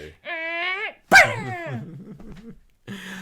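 A human voice mimics a robotic toy dog barking: stiff, buzzy electronic-style yaps and a sharper yelp, followed by lower warbling noises, each burst separated by short silences.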